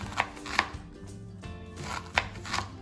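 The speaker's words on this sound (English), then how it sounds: "I'm not an expert at chopping the onions, but this is the way I've always done it." A knife chops onions on a board for pork and sauerkraut goulash, giving sharp, close taps in an irregular rhythm over a low background hum.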